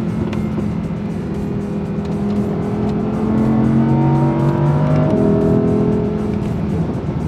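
Audi R8 V10 Plus engine revving with rising and falling pitch sweeps as it downshifts, loud and close, a sustained throaty roar with a sharp blip near the end and no talk over it.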